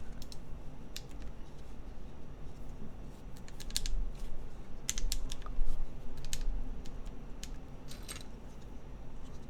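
Keystrokes on a keyboard without keycaps, fired off in quick, uneven bursts of sharp, close clicks and clacks over a faint steady hum, with no talking.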